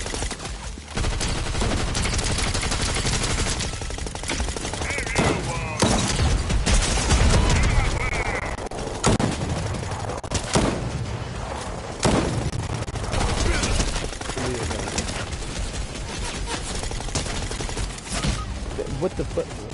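SMG gunfire in Fortnite Zero Build comes in rapid bursts and repeated volleys over a busy, loud game soundscape, with a player talking between shots.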